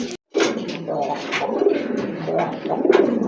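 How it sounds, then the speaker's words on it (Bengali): A big pair of red Rajgolla pigeons coo close by, their soft throaty calls repeating in an almost continuous, rolling stream across the whole stretch. "বিগ সাইজের এক জোড়া রেড রাজগোল্লা কবুতর"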